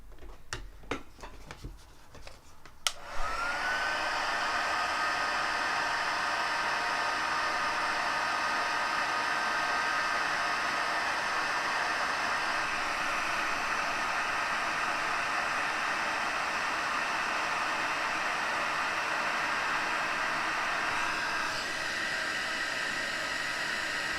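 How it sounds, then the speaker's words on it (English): A heat embossing tool blows hot air in a steady, loud hiss for over twenty seconds during card crafting, preceded by a few sharp clicks and handling taps. "I'm just gonna be heat embossing"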